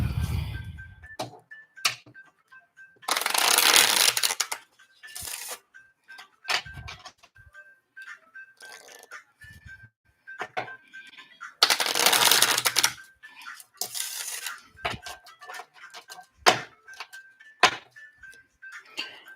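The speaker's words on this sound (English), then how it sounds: "one last shuffle, and I'm going to pull from the bottom of the deck." A tarot card deck is shuffled in two loud bursts of riffling a few seconds apart, separated by scattered soft taps and card handling noises in a quiet room.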